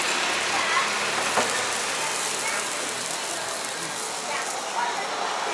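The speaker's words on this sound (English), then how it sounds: "It started raining a bit, but let's hope it's not gonna get any worse." Light rain falls outdoors in Ecuador, making a steady, even hiss with occasional soft patters close by.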